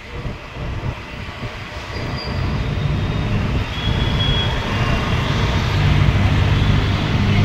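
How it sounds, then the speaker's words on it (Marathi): A Mumbai metro train rumbles past close by near Andheri, its roar building steadily and staying loud to the end, with a faint high whine above. "ही बघा मेट्रो"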